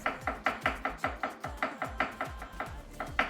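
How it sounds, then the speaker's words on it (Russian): A knife finely chops a garlic clove on a board, rendered as a fast, steady run of close, crisp chopping taps at roughly four per second, continuing without pause and with no voices. "Режем мелко."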